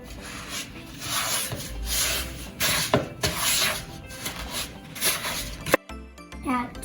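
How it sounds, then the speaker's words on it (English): Sugar mixture for banana bread is whisked in a bowl with quick repeated scraping, rubbing strokes, close and fairly loud in an irregular rhythm, ending in a few sharp clinks. "Then we whisk them."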